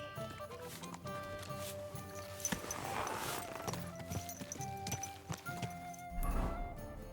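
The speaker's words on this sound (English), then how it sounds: "My, what a beautiful horse." Horse hooves clip-clop at a steady walking pace in the medieval game Kingdom Come: Deliverance II, moderately close and mixed under continuous game music and ambience, with a louder burst of movement near the end.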